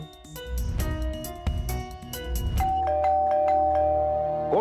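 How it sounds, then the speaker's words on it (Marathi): A doorbell chimes repeatedly in a home within a Marathi TV serial: several sharp ding-dong strikes in quick succession, followed by a sustained ringing tone, loud and close, with no voices. "कोण मूर्खासारखे बेल वाजवत आहे?"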